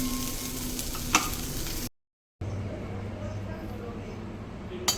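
Vegetables stir-fry over a high flame, sizzling and crackling steadily in a hot pan, with a brief silent break and a voice talking in the background.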